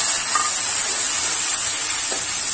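Onions and tomatoes sautéing in hot oil for a lentil dumpling kuzhambu, a loud, continuous bright sizzle with a couple of faint clinks and no talking.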